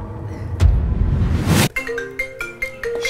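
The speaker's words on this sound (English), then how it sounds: "It's just ringing." A phone rings on a call to a number that goes unanswered, a near electronic ringtone of rising repeated tones after a brief rumble and burst of noise, heard alone with no talking.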